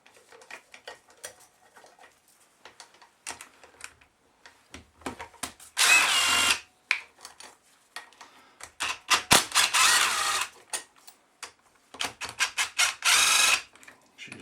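A power tool whirs in short and longer loud bursts as bolts come out of a Yamaha SR125 motorcycle engine head, interspersed with quiet clicks and clatter of tools and metal parts between the runs.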